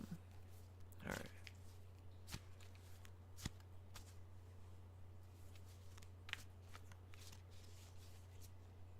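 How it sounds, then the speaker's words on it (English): A deck of tarot cards is shuffled by hand for a one-card draw, giving quiet riffling and flicking sounds with a few sharper snaps, heard close over a steady low hum. "just gonna do a one card draw"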